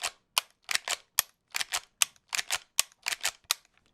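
Rapid gunshots from a .357 Magnum fired at a watermelon-sized target 50 yards away, about a dozen sharp, loud reports in quick uneven bursts with brief gaps, no voices.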